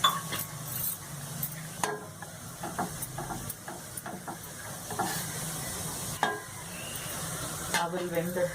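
Flattened rice (aval) simmers in milk for a Navratri offering while a spoon scrapes and stirs the pan in repeated strokes, over a soft bubbling hiss and some faint background noise.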